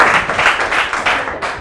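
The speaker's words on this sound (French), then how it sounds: "Applaudissez très fort pour notre ami." Children's audience at a school reading event claps loudly in a brief burst of quick, uneven applause, close and continuous without speech.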